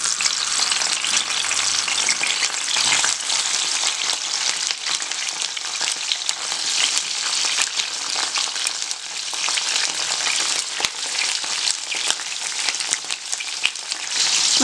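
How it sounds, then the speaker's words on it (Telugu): Cut brinjal pieces fry in about two spoons of oil in a pan. A steady, loud, dense sizzle holds for the whole stretch, with faint scraping now and then and no talking. "ఇందులో మనం ఫస్ట్ కట్ చేసి పెట్టుకున్న వంకాయలు అనేవి వేసేసుకుందాం."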